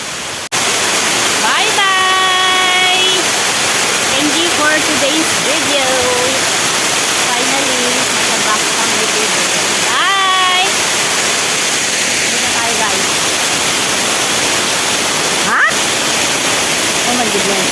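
A loud, constant rush of falling water fills the whole stretch, with faint whistling tones rising over it at times.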